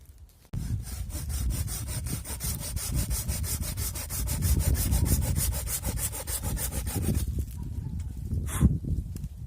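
Close, loud rasping strokes of a Japanese garden saw biting through a branch, quick and even, continuing for several seconds before stopping abruptly.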